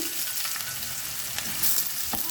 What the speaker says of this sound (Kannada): ಈರುಳ್ಳಿ ಹಸಿ ವಾಸನೆ ಕೂಡ ಹೋಗ್ಬೇಕು ಅಲ್ಲಿ ತನಕ ನಾವು ಫ್ರೈ ಮಾಡ್ಕೋಬೇಕು